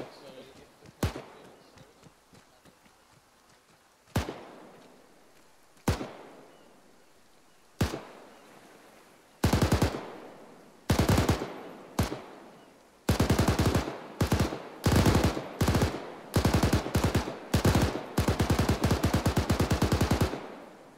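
Gunfire in a video game starts as single sharp shots spaced a few seconds apart, then grows into short bursts and long automatic volleys, loud and close, each burst breaking off abruptly.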